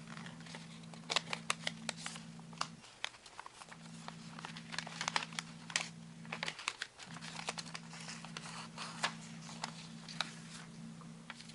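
Black and white paper crinkles and creases while being folded into an origami sugar skull, with soft scattered rustles and snaps over a steady low electrical hum.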